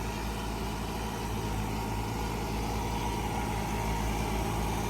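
A 1994 Fiat 640 75 hp tractor runs a rotavator in a field, its diesel engine giving a continuous steady rumble with a low throbbing drone and no pauses.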